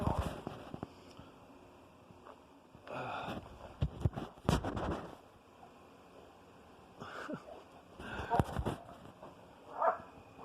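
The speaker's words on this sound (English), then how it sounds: "that's my dog's noises he makes when he's playing with Bella" A dog makes short playful whimpering and yipping noises in scattered bursts while playing with another dog, close by, with brief pauses between them.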